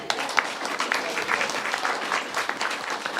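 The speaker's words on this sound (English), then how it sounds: "Round of applause." A crowd claps steadily throughout, a dense, lively patter of applause with no pauses.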